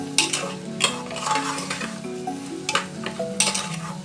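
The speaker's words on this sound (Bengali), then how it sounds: "দিয়ে এবার আবার আমরা ডালিয়াটার সঙ্গে পুরো জিনিসটা মিক্স করব" Broken wheat (dalia) stirred with vegetables and onion in a pan, close scraping strokes with sharp spoon clinks against metal over a light sizzle, no talking.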